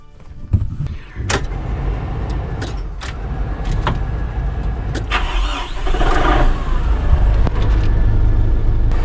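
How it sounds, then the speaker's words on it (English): A few clicks and clunks, then a New Holland 1411 tractor engine cranks and catches, settling into a loud, steady low rumble nearby. "Let's start it up and see if it works."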